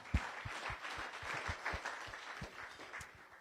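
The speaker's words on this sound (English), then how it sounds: "Let's give her a round of applause for that." Applause at a Rotary Club weekly meeting in Las Vegas, a soft, fairly distant patter of clapping hands that continues steadily for a few seconds and gradually thins out.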